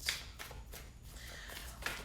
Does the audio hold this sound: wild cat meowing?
no